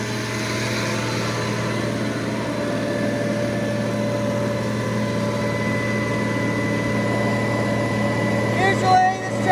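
A farm tractor engine idles steadily and evenly in the foreground, a constant low hum with a faint higher whine running through it, and a brief clatter near the end.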